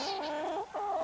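Chickens cluck and murmur nearby in a short burst of throaty, warbling calls.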